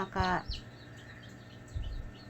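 A single mother hen with chicks gives a short burst of clucks up close, then a quieter rustle follows after a pause.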